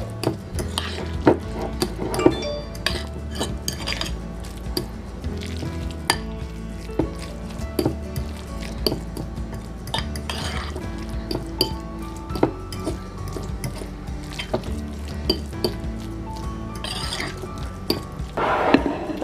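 Tuna mash being stirred in a bowl, a run of wet squishing scrapes and light clinks of a utensil against the bowl in a quick irregular rhythm, close and continuous.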